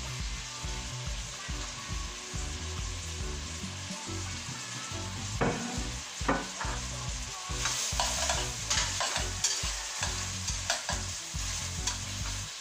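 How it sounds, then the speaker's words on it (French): Chorizo frying in a pan for a Portuguese stew, a steady close sizzle broken by repeated stirring scrapes and clacks throughout, with no one talking. "Et on va rajouter tout de suite le chorizo."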